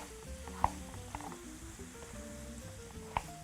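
Chopped vegetables fry in a pan in a steady, close sizzle, with two brief clicks of a utensil against the pan.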